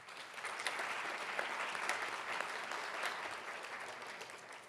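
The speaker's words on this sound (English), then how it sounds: "Could we please give them a round of applause?" Audience applause fills a lecture hall at a student leadership honorary event, a steady wash of many hands clapping at moderate volume for several seconds without pause.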